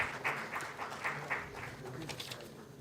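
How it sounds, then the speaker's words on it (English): Audience applause at an AI leaders' summit, moderate and somewhat distant, with scattered claps forming a steady patter for a few seconds. "A round of applause, ladies and gentlemen."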